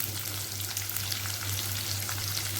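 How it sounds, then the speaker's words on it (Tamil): Onions sauté in oil with curry leaves in a home kitchen, giving a steady close hissing sizzle with a low constant hum beneath and no talk. "வெங்காயம் போட்டுட்டு அதையும் நல்லா எண்ணெயில் ஒரு வாட்டி வதக்கி விட்டோன்னா"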